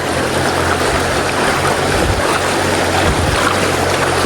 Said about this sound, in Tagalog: kalakas yung tubig na dumadaloy dito